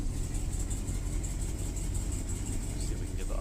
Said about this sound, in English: Let's see if we can get the idle stable. There, stable idle.